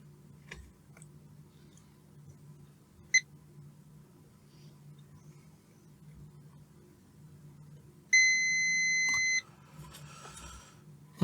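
Multimeter continuity beep while probing a diode and transistor on a heat pump control board, a single steady tone lasting about a second, preceded by faint probe clicks in a quiet room.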